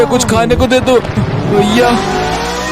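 A car drives past in the Free Fire video game, its engine rising and then fading while someone talks loudly over it in the first half.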